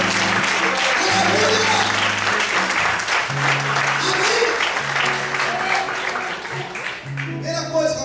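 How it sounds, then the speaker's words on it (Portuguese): Church congregation applauding during an evening service, steady clapping mixed with shouts of praise and a sustained organ-like tone underneath. "Quem pode aplaudir e exaltar esse Deus nessa noite?"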